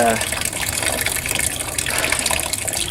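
Water gushes steadily from a press squeezing biomass fuel, a dense continuous splashing and trickling close by that stays loud throughout, with a voice briefly audible.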